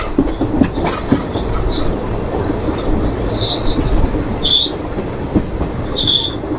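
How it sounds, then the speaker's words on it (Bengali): The Howrah Kaviguru Express rumbles along close by, wheels clattering and brakes squealing in high-pitched bursts as it slows into Sagardighi station. "আমাদের ট্রেন এখন সাগরদিঘি রেল স্টেশন ঢুকছে"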